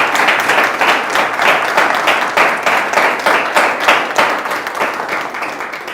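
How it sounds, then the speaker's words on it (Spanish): An audience gives a talk on sound heritage a loud, close round of applause, with thick overlapping claps that pulse in a brisk rhythm and stay strong for about six seconds. "Yo creo que le voy a dar un buen aplauso."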